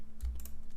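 Computer keyboard arrow keys are tapped in a few quick, soft clicks over a low electrical hum, with no talking.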